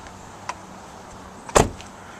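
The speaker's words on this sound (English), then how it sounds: "Power sliding doors on both sides" Power sliding door of a 2011 Volkswagen Routan minivan, heard as a faint click followed a second later by a short, louder thump of the door mechanism, close by with no talking.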